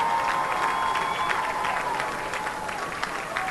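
A crowd applauds and cheers in the stands at a high school football game between the Aldine Nimitz Cougars and the MacArthur Generals, a steady wash of clapping with a faint announcer-like voice running through it.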